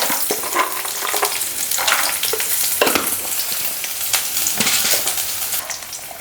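Onion and cashews fry in hot oil in a pan, a constant loud close sizzle with occasional scraping stir strokes breaking through, no talk.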